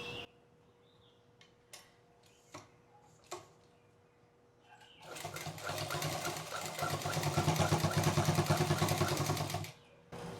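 A sewing machine stitches over a joined fabric strip, starting after a few sharp clicks and scattered taps, then running steadily and loudly for about five seconds in a fast, even whir before stopping.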